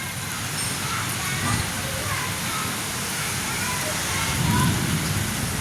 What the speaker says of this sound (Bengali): অন্ধকার করে এসেছে, ঝড় শুরু হয়েছে